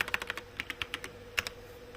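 Quick clicks of a computer keyboard as a command is typed, a close, light patter of separate keystrokes with brief gaps and one firmer tap near the end.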